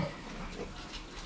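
Newborn piglets sired by a breeding boar, heard as soft grunts and squeals close by and faint, in a short burst with no talking.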